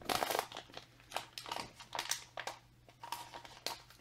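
A plastic bag of cocoa mix crinkles close by in quiet surroundings, with irregular bursts of crackling and rustling that continue without a break.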